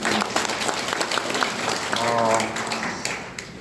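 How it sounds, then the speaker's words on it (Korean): An audience claps at a housing cooperative emergency committee meeting in Maseok-u-ri, a steady spatter of hands lasting several seconds with a voice briefly speaking over it. "큰 박수 부탁드리겠습니다"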